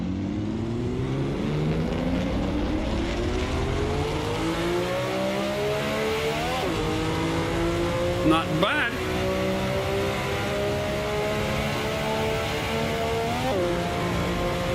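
A Ferrari engine in Assetto Corsa revs and pulls through the gears, its drone rising and dropping with shifts while someone speaks briefly over it.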